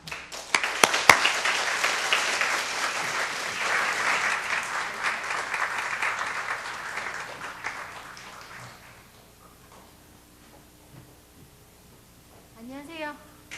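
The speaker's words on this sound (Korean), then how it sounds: "우리 이영초 교수님 나오실 때 큰 박수로 인사를 대신하도록 하겠습니다." Church audience at a mothers' prayer meeting breaks into loud, dense applause that holds for about eight seconds, then fades to a quiet hall with faint rustling.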